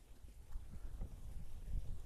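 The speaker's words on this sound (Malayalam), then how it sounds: "എന്താ നല്ല കാറ്റുണ്ട് കേട്ടോ" Wind buffets the microphone in low, gusty rumbles, rising and falling continuously outdoors while off-road cycling in Alappuzha, with no voices.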